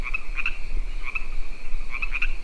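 A tree toad sends out repeated shrill, chirping croaks in small clusters, loud and close over a low night-time background.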